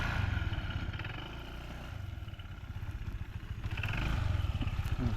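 A motorcycle engine putters close by as the bike is ridden around, a steady low rumble that swells again toward the end with no clear talking.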